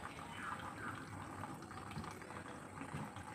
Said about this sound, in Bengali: জল এত সরু করে পড়ছে যে মিস্ত্রি এসছে, এই যে ওই রকম সরু করে পড়ছে জল